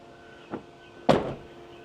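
Passenger door on a 2018 Hymer ML T 570 motorhome swings shut, a soft preliminary knock followed by one firm close-range slam with a short ringing tail, no voices.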